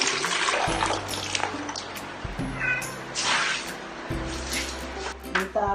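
Soapy water is poured and splashed while a cat cage is cleaned, giving liquid sloshing and splattering in uneven bursts, with a cat meowing repeatedly nearby and a faint low hum underneath.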